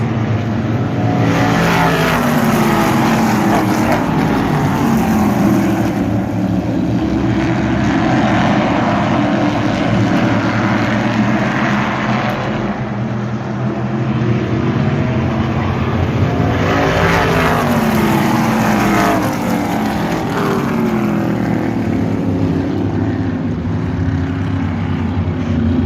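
Stock cars race at Wiscasset Speedway, their engines a loud sustained roar that swells and fades as the pack passes close by, with no talk over it.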